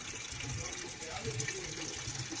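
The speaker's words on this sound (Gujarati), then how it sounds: "બેરું ભરી રહી છું" Water running from a tap into a metal water pot, a continuous gushing fill heard close and fairly loud, with faint voices mixed into the background.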